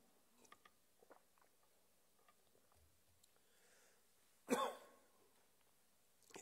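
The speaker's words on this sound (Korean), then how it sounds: "설교 중에 마스크 때문에 이렇게 기침이 나오면 벌을 줘야 돼." A single harsh cough during a church sermon, close and fairly loud, set against a very quiet room with a few soft clicks and faint mouth sounds before and after.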